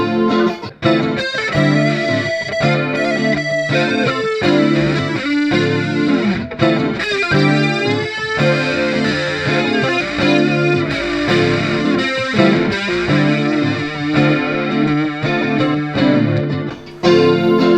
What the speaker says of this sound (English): now I could switch over to the